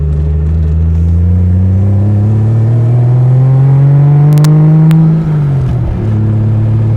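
A 1970 Triumph TR6 with a loud aftermarket exhaust drives close by, its engine note climbing steadily under acceleration before a brief dip as the driver shifts gears, then pulling again.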